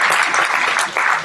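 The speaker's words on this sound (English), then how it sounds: "Another round of applause for her" Dense applause fills a summit hall, a continuous close wash of many hands clapping that dips briefly before swelling again.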